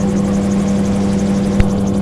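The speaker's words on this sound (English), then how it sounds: "It's got the vibration that you get in any rotor system, and that's constant." A helicopter in flight heard from inside the cabin, its rotor system giving a loud, constant low drone with a steady vibrating pulse and a brief knock near the end, no voices.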